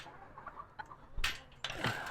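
Chickens in a walk-in John Siskovich style chicken tractor on a farm cluck and squawk nearby, a few soft clucks followed by two louder, harsh bursts of calling.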